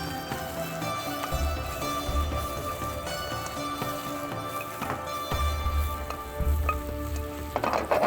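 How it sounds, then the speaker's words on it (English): Spices frying in a pan for a shahi korma, a continuous close crackling sizzle with occasional louder pops and stirring bumps. "you need to start frying the things"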